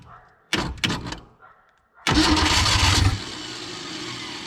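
A 1961 Willys Jeep, idle for thirty years, cranks with a couple of short bursts, pauses, then catches into a loud, steady rough running for about a second before settling to a lower idle.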